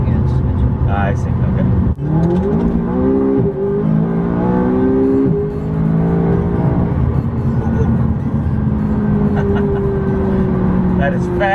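A 2017 McLaren 570 sports car accelerates hard, its loud, close engine note climbing steadily through the gears with rising pitch, and voices are heard over the engine.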